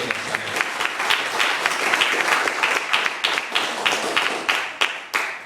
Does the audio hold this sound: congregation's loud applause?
yes